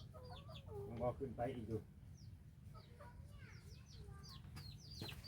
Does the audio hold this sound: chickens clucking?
yes